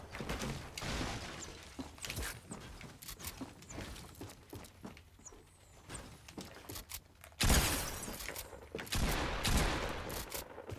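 Rapid, dense gunfire in Fortnite, with repeated sharp shotgun-style blasts and mechanical clatter over a busy game backdrop, building to a louder burst of shots near the end.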